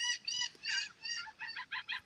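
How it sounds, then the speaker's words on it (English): Seagulls call outdoors in a quick series of bright, repeated squawks, moderately faint and heard alone, with short gaps between the calls. "the Seagulls are out tonight or today"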